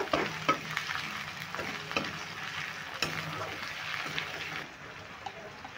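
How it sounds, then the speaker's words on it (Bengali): Chopped green chilies sizzling in oil for a no-onion, no-garlic chili paneer, a close steady crackle with spoon scrapes and light taps as they are stirred, fading quieter near the end, nobody speaking. "এবার আমি একটু ভেজে নেব"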